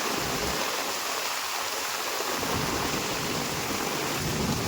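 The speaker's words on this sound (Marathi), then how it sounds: "पाऊस बघा खूपच आहे. आता परत जोर धरले ना पावसान." Heavy unseasonal rain pours down in Konkan during a sudden storm, a loud, dense, steady roar of rainfall on surfaces that continues without a break.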